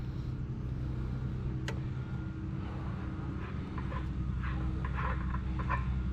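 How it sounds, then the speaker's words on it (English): A truck idles and moves slowly in reverse while backing up at a scrapyard, its steady low engine rumble continuing under a few faint clanks and knocks. "go up there and put the truck in reverse and back up"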